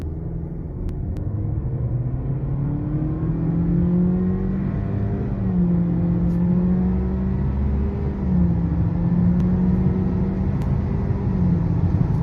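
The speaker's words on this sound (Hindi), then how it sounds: "अब हम आपको इसका 0 to 100 जो है वो फिगर टेस्ट करके" Honda Civic 2022 engine pulling hard through a 0 to 100 acceleration run, a steady loud interior rumble with rising and shifting engine tones, no talk over it.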